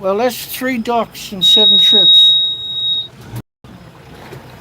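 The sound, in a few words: boat alarm beeping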